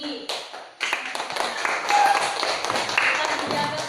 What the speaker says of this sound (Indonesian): Dan ibu kita beri tepuk tangan buat Riri dan Kimberly karena jawabannya yang paling tinggi.